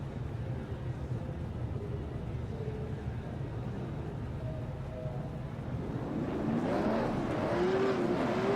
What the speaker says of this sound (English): All the cars begin to roll.